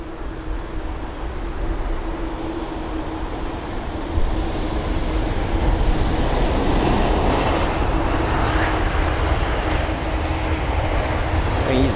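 A British Airways Airbus A350 touches down on runway 27 right at London Heathrow, a steady broad engine roar with rushing wind that swells slightly midway and holds loud and near throughout.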